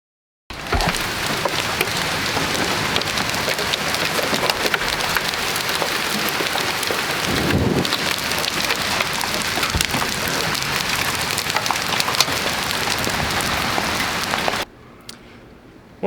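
Steady, dense rain patters on a surface for a long stretch, loud and even, then cuts away to quiet near the end.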